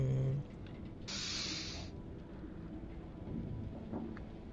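A rumble of thunder rolls through a stormy night at sea in the Man of Medan game, over a continuous wash of rain, with a brighter burst partway through; no speech.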